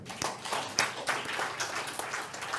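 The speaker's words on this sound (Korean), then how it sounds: "박수로 환영합니다." Church congregation clapping to welcome the Sunday school and youth groups during a Sunday service; scattered, moderately quiet claps over about three seconds.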